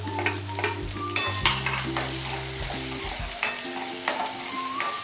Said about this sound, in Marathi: कांदा टाकून घेते आता परतायला पूर्ण.